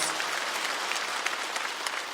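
A church congregation gives a choir a round of applause, dense and even clapping that fills the whole stretch with no voices on top.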